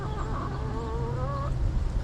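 Chickens cluck and murmur softly close by, with a low steady rumble underneath and no talking.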